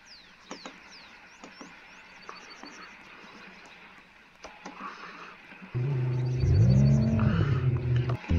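Video game car engine revving up loud and steady in the second half, after a quieter stretch of faint clicks and ambient game sounds, with no voices.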